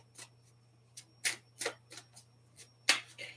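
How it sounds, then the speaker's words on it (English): A deck of playing cards is shuffled by hand, a series of crisp riffling bursts and snaps spaced irregularly, close and clear over a low steady hum. "we usually do by just shuffling the cards"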